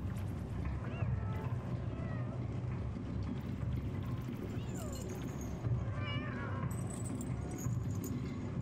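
In the game Animal Well, a human voice imitates a cat with a few wavering meow-like cries. They sound faint to moderate over a dense, murky background drone.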